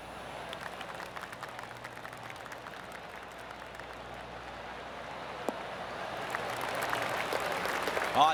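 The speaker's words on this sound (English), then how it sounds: "Oh, I can hear the golf claps around the course." Light, scattered golf claps from a distant gallery around the course in PGA TOUR 2K25 career mode at the FedEx Playoff St Jude Championship, a soft steady patter under ambient crowd noise that swells slightly near the end.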